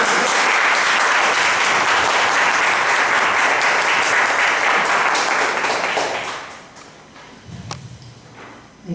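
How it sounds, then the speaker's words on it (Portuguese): A church congregation gives strong, dense applause that holds for several seconds, then dies away into quiet room sounds with a few stray knocks. "Uma forte salva de palmas para o Senhor Jesus."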